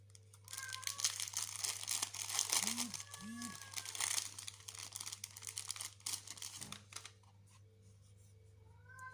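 A craft supply package ordered from Craft Bar is torn and unwrapped up close, with crinkling plastic and paper rustles that taper off, while a voice speaks over part of it and a low steady hum runs underneath.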